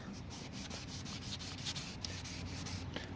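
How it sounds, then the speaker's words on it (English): Steady wet sanding of a car headlight lens by hand with 1000 grit sandpaper, a continuous close rubbing scrape in repeated even strokes with no talking. "And you just want to start sanding."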